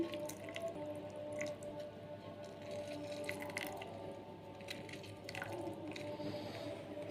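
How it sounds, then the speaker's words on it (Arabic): Lemons are squeezed by hand and juice drips and splashes in small irregular drops over a steady low background hum, soft and close. "عصر الليمون كتير يا جماعه"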